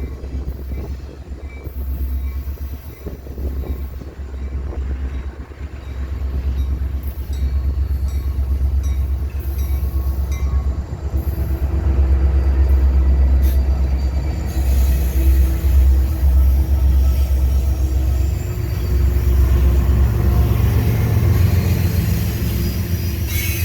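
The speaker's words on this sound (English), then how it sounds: "southbound grain train CSX G473 would come through Decatur with a pair of SD70AC rebuilds leading a DC GEVO" Southbound CSX grain train G473 rolls through Decatur, Alabama, led by a pair of rebuilt SD70AC locomotives and a DC GEVO. A loud, close, sustained rumble of wagons builds over time, with wheel squeals and steady rail clatter.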